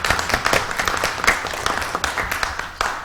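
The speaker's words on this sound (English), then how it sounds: "Big round of applause for our panelists." Applause from a seminar audience for a panel of speakers at a small business event, a steady patter of many hands clapping together at moderate volume, fairly close, with no talk over it.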